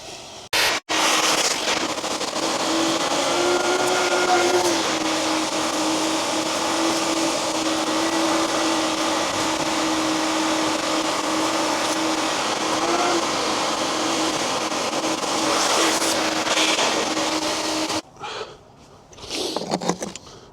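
A Hoover vacuum roars steadily and loudly while clearing pine needles from a gutter, a sustained suction drone with a constant hum that cuts off abruptly near the end, followed by faint rustling and a brief softer burst.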